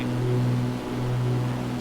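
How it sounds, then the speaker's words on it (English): F-18 jet engines in a flight simulator game give a steady, close, droning hum with a constant low tone that holds throughout, with no talk. "I'm starting to hear those jet engines."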